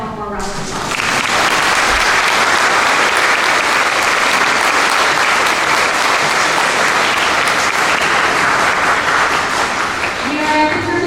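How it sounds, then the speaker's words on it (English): An audience at an 8th grade promotion ceremony gives performers loud, sustained applause, starting after a brief voice and swelling into a thick, continuous wash of clapping, with a bit of talk returning at the end. "Let's give them one more round of applause."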